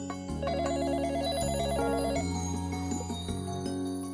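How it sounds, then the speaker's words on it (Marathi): A telephone ringtone plays steadily, a bright repeating electronic melody over a sustained musical backing, loud and continuous with no talking. "अगं फोन वाजतोय मगातपासून."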